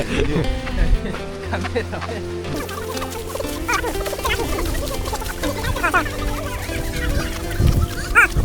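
A chicken clucks in repeated, close, busy bursts, mixed with people talking over it throughout.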